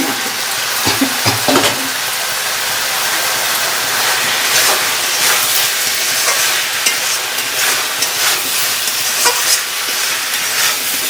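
Eggplants dropped into hot oil, with a couple of sharp splashes at the start, then a loud, dense, continuous frying sizzle that holds steady to the end.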